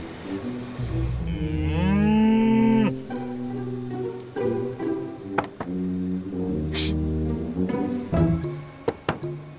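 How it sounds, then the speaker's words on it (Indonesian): Cattle standing in a road let out a single loud, drawn-out moo close by early on, then quieter lowing and scattered knocks and rustles continue in the background. "Ada sapi di tengah jalan sih."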